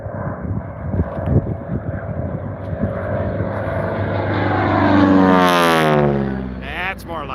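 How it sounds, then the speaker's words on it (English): Multiple AT-6 racing aircraft roar past low and close at the Reno National Championship Air Races, a loud, droning radial-engine rumble swelling into a pronounced flyby around the midpoint, with a commentator speaking over it. "some of the lowest and loudest and closest racing you'll see at the Reno National Championship Air Races in September"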